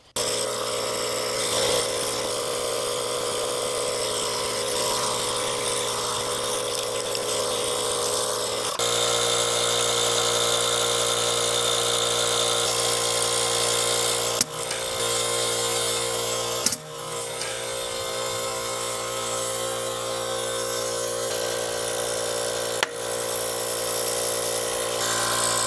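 A tubeless-ready bicycle tire is inflated and seated onto its rim, giving a loud, steady mechanical drone with hiss that runs almost continuously, broken by a few brief dropouts and clicks.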